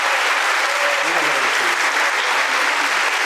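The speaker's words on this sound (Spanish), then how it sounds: "Un aplauso, por favor, a la maestra." Steady, dense applause from an audience for a female lecturer after a keynote lecture at a university, continuous and full throughout, with voices faintly mixed in.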